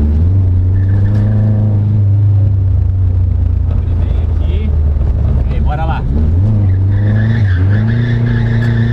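A stock Chevrolet Chevette drifting, its tires squealing and skidding in long wavering tones over a loud, droning engine close by.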